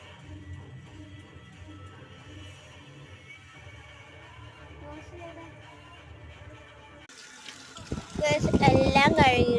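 Husked corn cobs are rinsed under a running tap in a kitchen sink before boiling, a faint, steady trickle and splash of water that continues before a voice begins speaking.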